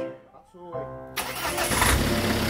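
A right-hand-drive Ford car cranks with a whirring starter, catches and then pulls away as the engine noise swells, with talk over the sound.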